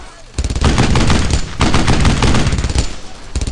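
Loud, dense gunfire in the World War II shooter Brothers in Arms: Earned in Blood, rapid machine-gun bursts and overlapping shots in near-continuous volleys with a short gap before a final burst.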